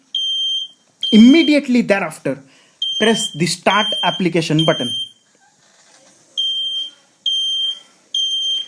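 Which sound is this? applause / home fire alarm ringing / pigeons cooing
home fire alarm ringing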